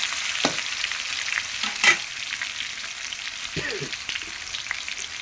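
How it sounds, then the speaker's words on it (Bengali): Onion frying in hot oil in a pan, a constant close sizzle broken by a few sharp utensil clinks and stirring scrapes, one louder knock near the two-second mark. "তেল দিয়ে দিলাম, পেঁয়াজ দিলাম,"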